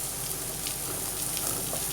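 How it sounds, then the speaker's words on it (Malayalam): Chopped carrots sizzle in melted butter in a pan, a steady close hiss of frying while making chicken masala Maggi noodles. "ഇനി അതിലേക്ക് നമുക്ക് കുറച്ച് ക്യാരറ്റ് അരിഞ്ഞ് ചേർക്കാം."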